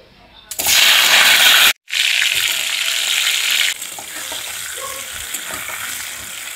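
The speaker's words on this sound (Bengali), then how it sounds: "এইভাবে আমি পটলগুলো ভেজে নেব" Salted, turmeric-coated pointed gourd (potol) pieces hit hot mustard oil in a pan, giving a loud, steady close-up sizzle that breaks off briefly, then settles into a quieter continuous frying hiss.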